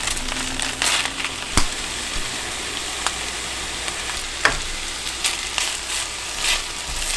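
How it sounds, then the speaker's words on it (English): Spinach sautéing in a pan as a side dish for a Japanese meal, a steady broadband sizzle with scattered sharp crackles and occasional stirring clicks, close and fairly loud, with no talk. "for our veggie side, we're going to do some sauteed spinach."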